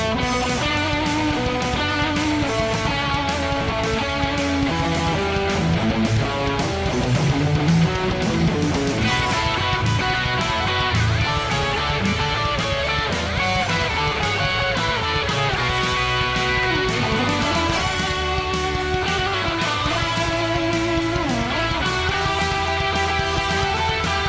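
Guitar solo from a song, a dense, loud and continuous run of fast notes over a full band, with no talking.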